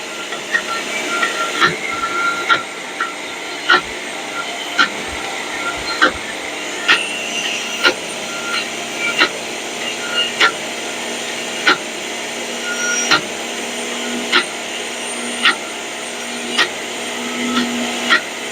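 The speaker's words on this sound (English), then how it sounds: "This is just a cheapy blender from Kmart." A cheap Kmart blender runs loud and steady, its motor whirring evenly with sharp clicks about once a second as the blades churn, and no one speaks.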